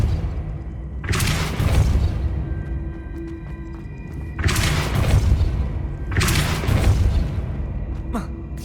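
Depulso spell cast three times in the video game Hogwarts Legacy, each a loud booming magical blast with a sharp burst and a rumbling tail, separated by short pauses.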